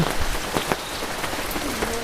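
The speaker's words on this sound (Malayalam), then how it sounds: "ഇതാ പിന്നെ ഇതാ മഴ തുടങ്ങിയിട്ടോ" Steady rain pattering on a surface, a dense hiss of drops with occasional louder splats, continuous throughout with no voices.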